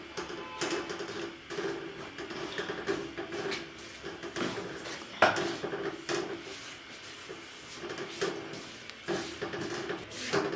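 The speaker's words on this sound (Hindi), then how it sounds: "मुसलसल चम्मच हिलाते हुए हमें इसको तकरीबन 7 मिनट तक भूनना है।" Wheat flour roasting in hot ghee with a spoon stirring it steadily, giving a continuous soft scraping and hissing sound, with a sharper clack near the middle; no one speaks.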